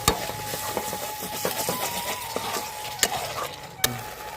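Spice paste with mustard-poppy paste and whisked yogurt is stir-fried in a pan for Bengali hilsa tel jhal, giving a soft steady sizzle broken by scraping stirs and a few sharp spatula clacks against the pan.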